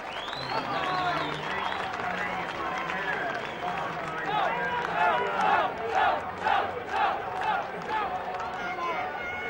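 A large rugby league crowd cheers and roars at Derwent Park during a Derby Day match between Workington and Whitehaven, rising in rhythmic surges after a conversion, with a commentator talking over it.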